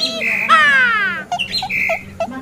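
Pet birds squawk and chirp while being fed, a loud near harsh descending call followed by several shorter chirps and squawks, with no talking.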